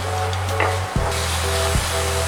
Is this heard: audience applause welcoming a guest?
no